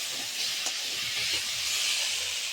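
Hot water poured into sizzling fried masala for a mustard-poppy fish curry, giving a loud, continuous steamy hiss and sizzle.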